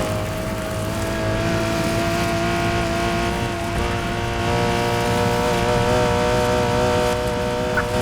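A car engine drones steadily in a Need for Speed Heat pursuit, its tone holding level and continuous with slight shifts in pitch, loud and close throughout with no talk over it.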